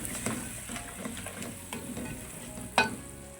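Ground roasted cumin and dry coriander stirred into a hot frying pan for a chicken and green bean dish, a steady close sizzle under light scraping strokes and one sharper clack of the spoon near the end.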